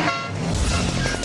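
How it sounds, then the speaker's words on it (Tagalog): A car horn honks amid steady traffic noise, loud and close, sounding continuously through the short moment. "Busina sa petrolyo."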